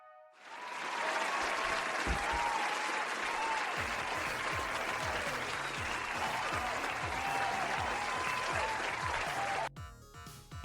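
Audience applause at a live show: a dense, loud wall of clapping swells up fast and holds steady for about nine seconds, then drops off abruptly, with a low rhythmic thumping underneath.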